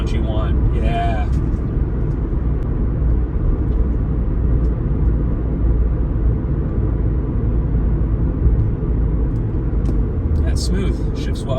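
A Toyota Supra engine drones steadily while driving, a constant low rumble with a couple of brief louder bursts near the start and end, heard from inside the car.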